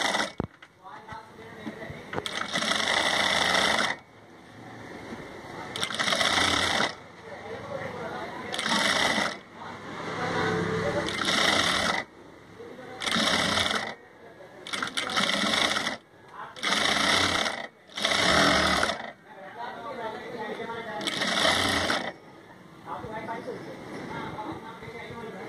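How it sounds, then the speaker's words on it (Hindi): A sewing machine stitches a cloth face mask in repeated runs of fast, steady mechanical rattling, stopping and starting many times, while someone talks between and over the runs. "सिलाई चला लीजिए।"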